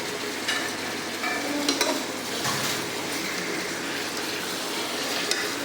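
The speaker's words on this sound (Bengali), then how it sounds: "এই যে এখানে মাংস ঘাটাঘাটি চলছে।" Meat frying in a pan in a hostel kitchen, stirred by hand with a spatula, a steady close sizzle broken by scraping strokes and light clinks.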